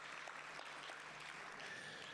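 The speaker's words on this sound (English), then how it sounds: "Can you please encourage him with a round of applause?" Faint, distant applause from a seated audience at an e-learning summit, a steady soft patter of clapping lasting a couple of seconds with no voices over it.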